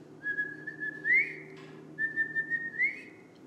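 A person whistles in imitation of a small bird's song heard outside a window: two similar phrases of sustained pure tones, each ending in a quick rising slur, soft and close, with a faint hum underneath.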